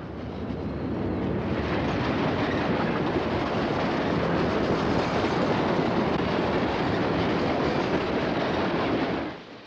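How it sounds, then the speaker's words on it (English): A Santa Fe local freight train, hauled by a GP diesel locomotive, rolls steadily past a station platform with a loud, continuous rumble and clatter of cars that cuts off abruptly at the end. "a local freight pulled by GP number 3106 moves through the platform area and"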